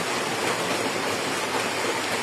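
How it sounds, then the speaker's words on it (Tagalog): Floodwater rushes past a house in a steady, dense roar like a heavy waterfall, loud and close with no pauses. "Ayan ang baha."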